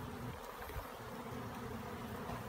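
Feral honey bees buzz steadily around a garage, shed or bird house, a continuous low drone that holds at an even level throughout, with no voices.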